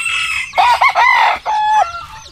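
A rooster crows up close and loud, a single strained cock-a-doodle-doo broken into a few rising and falling notes, with no talking over it.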